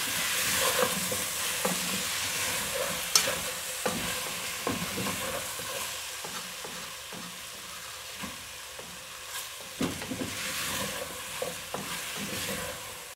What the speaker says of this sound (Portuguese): Deixo fritar mais um pouco